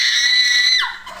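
A young woman, 21, lets out one long, shrill, high scream that holds steady and then drops sharply in pitch before fading.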